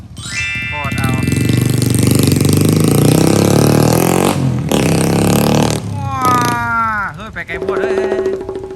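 A Honda Wave 110i motorcycle with a newly fitted exhaust pipe revs loudly and steadily, its engine note climbing and falling with throttle blips, close to the listener while voices talk and exclaim over it.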